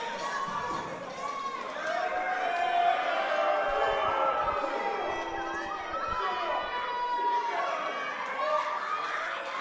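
Young fans at a small-town wrestling show in Sedalia, Missouri, chant for a favorite wrestler, a loud rhythmic crowd chant swelling in the middle and holding steady with shouts mixed in.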